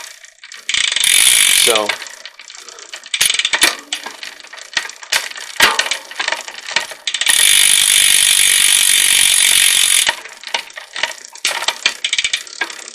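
A bicycle's rear derailleur barrel adjuster is turned, giving close, loud ratcheting clicks. These alternate with long bursts of a freewheeling rear wheel's buzzing ratchet.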